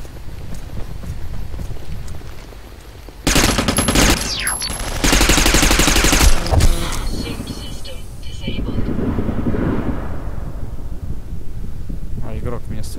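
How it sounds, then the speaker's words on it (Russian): Gunfire in the shooter Interstellar Marines, two loud dense bursts of rapid shots that start suddenly a few seconds in and run about three seconds in total, followed by quieter clatter, with someone talking throughout. "А игрок меня стреляет."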